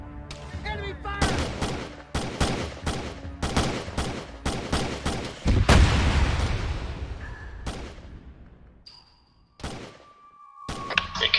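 Gunfire during a night operation in the video game ARMA, with rapid bursts of shots, heavy booms and thuds, a big explosion midway, and scattered shots afterward, with radio chatter faintly under it.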